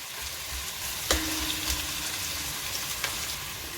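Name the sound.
onions frying in oil for beef biryani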